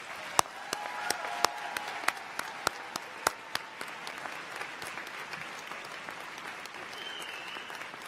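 Graduates at a college commencement ceremony applauding together, a dense spread of clapping with sharp individual claps standing out, then easing off toward the end.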